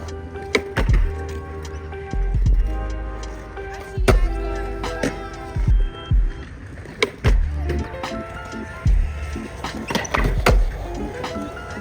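Skateboard tricks on a 10-inch board, with repeated loud wheel rolls, board pops and hard clacking landings in an irregular sequence, close and prominent.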